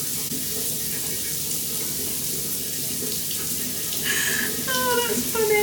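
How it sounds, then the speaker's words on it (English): Steady hiss of a running shower in a Maldives holiday bathroom, continuous and fairly loud throughout, with a brief clatter of splashes near the end. "just got in the shower mid makeup tutorial."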